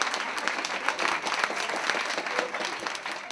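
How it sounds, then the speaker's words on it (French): An audience applauds Nico during a talk-show style event, a steady, moderately distant wash of many hands clapping that holds at an even level throughout. "Alors ça, on applaudit Nico, absolument."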